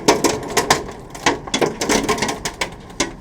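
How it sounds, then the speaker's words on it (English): Hail pattering down in a quick, irregular run of sharp ticks and taps, steady and close, with no voices over it. "Ooh, those sound like hail."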